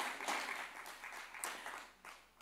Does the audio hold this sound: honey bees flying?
no